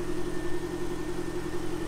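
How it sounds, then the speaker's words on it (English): A Ford CVH engine in a Fiesta RS Turbo idles quietly and evenly, a low steady hum heard close by without voices. "you can hear how quiet this engine is. Very quiet CVH."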